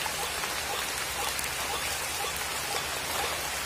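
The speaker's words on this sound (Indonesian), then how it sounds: "ini hujannya nggak berhenti-berhenti nih kawan-kawan" Steady drizzling rain patters densely and evenly on surfaces outdoors, a continuous close hiss with no breaks and no voices.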